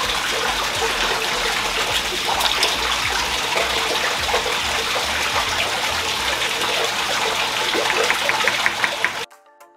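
Water gushes steadily into a 150 gallon aquarium tank, a constant broad rushing splash that stays loud and even before cutting off abruptly near the end.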